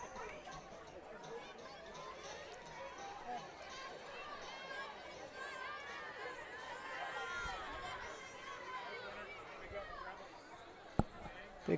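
Crowd chatter at a high school homecoming football game, a steady outdoor babble of many voices heard from a distance, with a few sharp knocks near the end.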